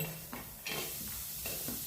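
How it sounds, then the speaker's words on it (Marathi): Onion frying in a kadhai, a close hissing sizzle with a few stirring scrapes and surges as the pieces are moved. "चांगला कांदा भाजून घेऊयात"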